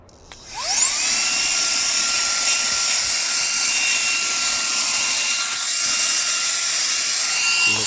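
A Reikiya cordless mini handheld vacuum cleaner spins up from silence with a rising whine, then holds a loud, steady high-pitched motor drone close by while cleaning a seat, with small dips as it moves.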